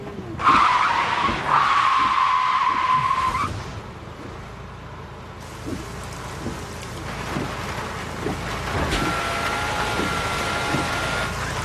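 A Volkswagen Jetta brakes hard with a sharp tyre skid squeal lasting a few seconds, then a rushing, rain-like hiss and rumble of the car on a wet surface, loud and with no talk.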